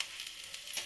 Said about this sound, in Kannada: ಒಗ್ಗರಣೆ ಅದ್ರ ಮೇಲೆ ಹಾಕ್ಕೊಳ್ಳೋದು